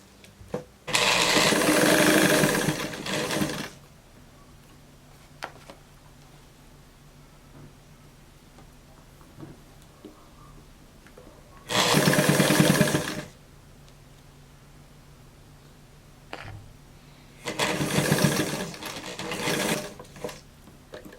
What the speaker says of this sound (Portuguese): costurei aqui com ponto de zigue-zague, bem fininho